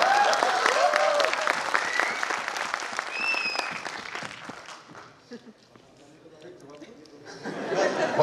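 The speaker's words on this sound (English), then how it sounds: "Let's have a round of applause for that also" Applause from a crowd at a film festival meet-and-greet with an actress, loud dense clapping mixed with chatter and laughter that thins toward the middle, then swells again, with voices heard among it.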